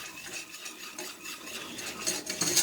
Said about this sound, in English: We're going to whisk this, we're going to cook this flour.